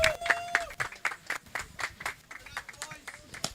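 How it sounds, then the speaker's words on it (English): Crowd applause and cheering at a football championship final in Mumbai, a steady run of claps with scattered whistles and shouts, heard alongside a voice on the sound system. "We have people out there celebrating and cheering for y'all"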